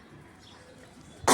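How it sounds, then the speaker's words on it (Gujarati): One sharp, loud cough from a person with a mild cough bursts out right at the end, after a stretch of faint outdoor quiet. "ઉધરસ છે થોડીક"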